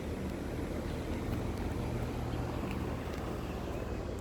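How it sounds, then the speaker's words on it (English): A vintage Westinghouse 20-inch reversible box fan runs at a slow speed with a steady, loud, breathy whoosh of moving air and a low hum underneath, constant from start to finish. "It's moving pretty slow actually, but it's blowing a lot of air."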